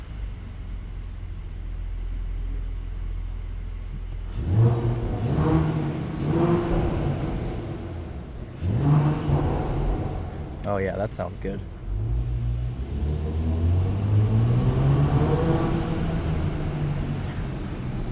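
A 2022 Mercedes GLE 53 AMG engine revs in several separate bursts, each rising and falling, with a deep mid-range growl close by. People talk between and over the revs.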